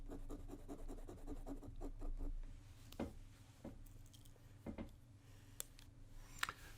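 A fountain pen, one of the Lamy, Pelikan or Pilot models, scratches across paper in short strokes with soft taps and pauses, faint and close.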